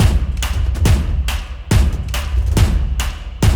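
Huge, booming cinematic drum hits from the Native Instruments Action Strikes library land in a driving pattern, deep and loud with heavy low-end rumble and sharp attacks.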